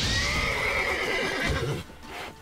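In The Witcher 3: Wild Hunt, a horse struck on the rump with a fist lets out a loud, close, descending whinny that fades into snorts and a few hoof sounds.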